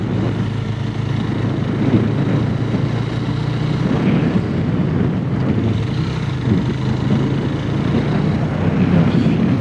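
A 2026 Yezdi Scrambler with the Katar engine is ridden, giving a steady, close, throaty engine drone blended with rushing wind noise throughout.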